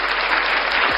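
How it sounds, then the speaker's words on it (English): Dense, continuous applause from a crowd clapping for Michael Vick, loud and steady through the whole brief moment. "Clap it up for Michael Vick"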